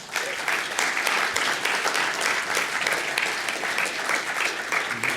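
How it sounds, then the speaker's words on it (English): Audience applause at a live business event session, steady dense clapping from a crowd that holds evenly throughout without speech. "Let's have another massive round of applause for Dave Stubberfield, everybody."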